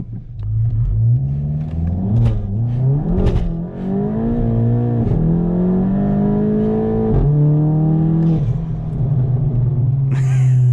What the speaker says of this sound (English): We're just gonna roll onto the throttle.